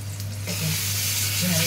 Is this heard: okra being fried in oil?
yes